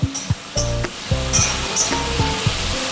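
Potatoes and onions fry in a pan, a steady close sizzle broken by several sharp clinks and scrapes of a utensil stirring against the metal.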